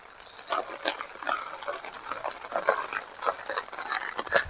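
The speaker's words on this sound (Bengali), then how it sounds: "দেখো কেমন বৃষ্টি দেখো আমি এখন রয়েছি রাস্তায় এত বৃষ্টি হচ্ছে সকাল থেকে" Rain falls on a street with irregular spattering and pattering bursts, fairly close, rising and falling in intensity with no voices.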